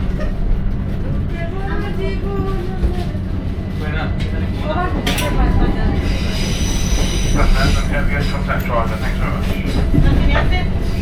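A Southern passenger train pulls out of London Victoria Station past the rail depot. Close, continuous rumbling fills the space while high steel wheel squeals rise and fade repeatedly throughout.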